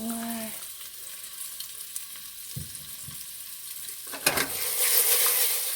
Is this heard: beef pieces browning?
yes